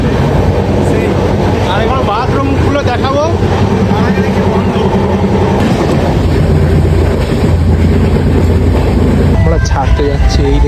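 Loud, steady rumble and rattle of a chair car train rolling along the rails, with voices talking over the constant noise.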